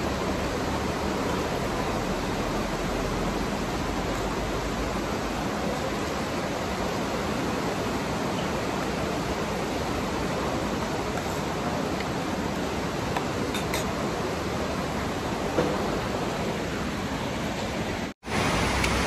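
The Marsyangdi river rushes beneath the Mugling bridge in a dense, steady roar of broadband water noise, loud and unbroken for the whole stretch, with a brief dropout near the end.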